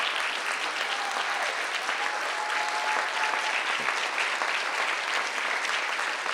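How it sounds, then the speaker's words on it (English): A room claps steadily for school district members standing at a National Hunger and Homelessness Week event, the dense even applause holding at a moderate distance for the whole stretch. "let's give them a round of applause"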